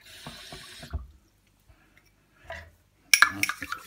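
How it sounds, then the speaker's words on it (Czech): Tap water splashes into salt in a home kitchen during seasoning for quick-smoked pork neck. A brief, fairly loud rush of water comes after soft clinks and handling noises. "Tak, do soli natočíme trochu vody."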